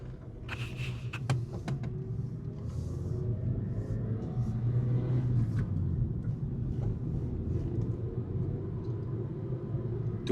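A repaired flipped car, its wheel badly out of alignment, rolls backward in reverse gear: a steady low engine rumble with a faint whine and a few light clicks near the start, and no voices.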